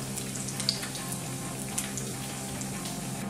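Coriander vadi fry in hot oil, a steady bright sizzle and bubbling hiss with a few small pops and crackles, close and continuous with no talking.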